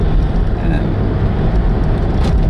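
Car driving through a residential area of multi-million-dollar houses in BC, a steady, loud low engine and road rumble heard from inside, continuous throughout with no clear talk.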